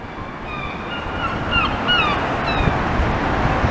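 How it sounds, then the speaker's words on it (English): Sea waves washing onto the beach beside the Blackpool promenade near North Pier, a steady breaking surf rumble with wind, while seagulls cry repeatedly overhead. "you can hear the waves"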